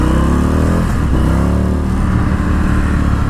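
A 2020 Indian FTR 1200 lugs and pulls in third gear, its loud continuous engine note rising and shifting pitch, captured close up with heavy wind rush and no talk.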